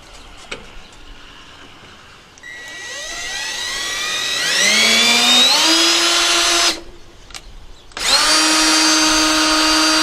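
A power drill spins up with a rising whine while backing a screw out on a Hudson Hornet's front end, runs loud and close, stops briefly, then whirs again at full speed.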